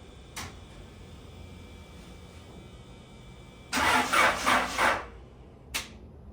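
An enduro race car's engine cranks weakly on a dead battery, with a brief click, then a labored, rhythmic starter grind of about a second that fails to catch, followed by one more short click.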